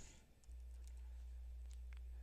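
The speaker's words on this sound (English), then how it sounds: "So we'll start typing in," A few faint, sparse clicks of typing on a computer keyboard, entering a search term, over a steady low hum.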